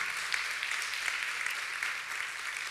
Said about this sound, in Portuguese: Você pode aplaudir essa orquestra bonita aqui?